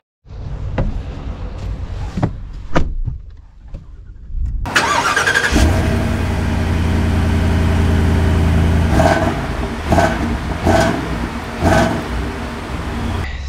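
A Ford V8 pickup truck, a 6.8-litre gas engine, sets off from rest, its low engine drone building steadily and staying loud and close for most of the stretch after a few quieter knocks and rustles at the start.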